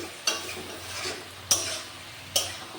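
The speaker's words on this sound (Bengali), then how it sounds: "একটু নাড়াচাড়া করে সব সবজি ভালো করে মিশিয়ে নিতে হবে" Vegetables are stirred in a frying pan, three sharp scraping strokes spaced about a second apart over a soft continuous sizzle, close up.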